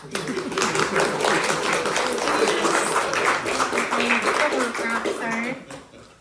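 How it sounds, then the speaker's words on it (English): Sustained applause from the audience at a community council meeting, dense clapping filling the space with some voices mixed in, tapering off at the end. "Let's give her a round of applause."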